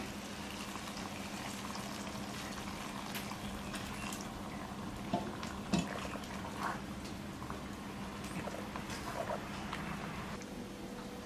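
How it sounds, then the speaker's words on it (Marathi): A curry of sprouted-bean usal simmers in a pan after a bowl of water is added, bubbling softly with a low steady hiss and a few faint clinks, with no talking. "आता मी ह्याच्यात घालणार आहे 1 वाटीभर पाणी।"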